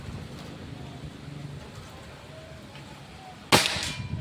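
A single sharp shot from a Predator Pajero Gen 6 air rifle firing 13.6-grain pellets cracks out near the end after a quiet stretch of low background noise, its short ring fading quickly.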